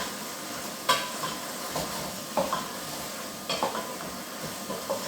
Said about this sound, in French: Alors on les mélange évidemment avant de rajouter l'eau